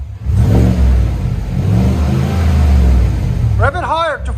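A 2020 Chevy Silverado High Country 6.2L V8 with dual Magnaflow performance exhaust rumbles at a low, deep idle and swells in rev pulses, loud and close, with a voice speaking briefly near the end.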